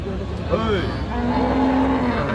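Cows and heifers low and moo at the Aftabganj cattle market in Dinajpur, one long sustained moo standing out near the microphone over a steady din of market crowd noise.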